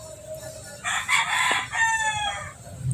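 A rooster recovering from illness crows loudly nearby, one long drawn-out cock-a-doodle-doo, with faint low background noise.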